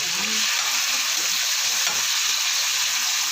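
Tomato, onion and garlic sautéing in hot oil, a loud, dense, continuous sizzle with stirring and no talk.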